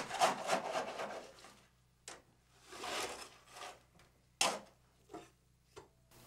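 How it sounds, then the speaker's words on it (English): A mallet or hand taps the outside of a concrete-filled test cylinder mold, giving a handful of separate dull knocks and rubbing scrapes spaced over a few seconds, close and fairly quiet. "Lightly tap the outside of the mold 10 to 15 times with a mallet or open hand to close the voids left by the tamping rod."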